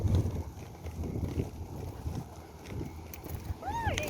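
Outdoor wind gusting on a hot day, low rumbling buffeting with a hint of microphone wind noise, moderate and continuous, with faint distant chirps near the end.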